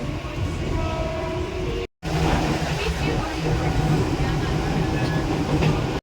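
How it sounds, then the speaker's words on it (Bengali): A train at a station rumbles loudly and steadily, with a sustained horn tone over the noise and a brief dropout near the start. "এই ট্রেনটায় উঠেছি"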